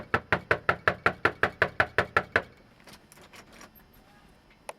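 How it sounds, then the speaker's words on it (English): A rapid run of about a dozen sharp, evenly spaced knocks on a door, loud and close, followed by fainter scattered taps and a final single knock. "you don't think he hears the door knocking from 3 stories up"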